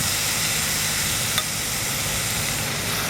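Sliced chuck roast browning in a cast iron pan over charcoal gives a loud, constant sizzle and hiss with one brief clink partway through, close and alone.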